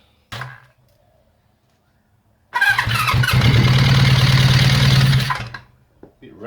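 A Honda CB350 Four motorcycle engine cranks with a brief burst, pauses, then catches and runs loudly for about three seconds in a close rough idle with squealing overtones before cutting out, followed by faint knocks.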